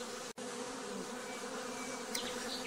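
Honey bees buzzing at a beehive during vertical hive splitting, a steady close drone with a few individual bees passing by, no speech.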